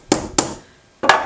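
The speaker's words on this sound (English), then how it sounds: "I've got a plastic headed hammer, and I'm just going to tap it down." A plastic-headed hammer taps a metal treble hook flat on aluminum scrap, three sharp nearby knocks, the first two close together and the third after a short pause.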